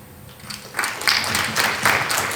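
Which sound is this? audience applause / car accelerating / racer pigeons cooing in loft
audience applause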